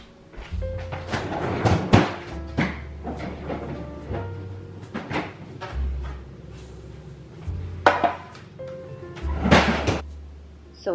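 In a home kitchen, a freezer door is opened and shut while chocolate molds are put inside, with several close thunks and clatters of handling and a low steady appliance hum beneath.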